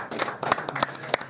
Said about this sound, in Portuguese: Salva de palmas ao Barra Mansa.